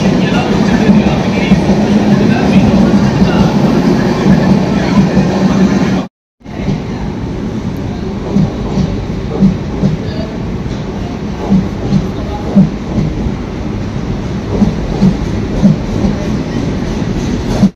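Secunderabad to Delhi Holi Special Express train running at steady speed, a loud continuous rumble with rhythmic wheel clatter; a brief break midway, then the rolling noise resumes with faint voices underneath.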